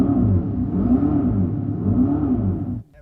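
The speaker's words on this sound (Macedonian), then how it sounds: "звучи како мотор и можеби се чувствува како мотор." An electric Dodge Charger revs through its simulated engine sound, a loud, deep, close droning growl that swells and dips in repeated surges before cutting out abruptly near the end.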